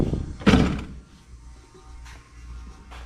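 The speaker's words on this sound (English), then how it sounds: "let me just see if the door will even close." The door of a Jeep TJ closes with a single solid thunk near the start, followed by a fainter rattle and low background noise, with no talking.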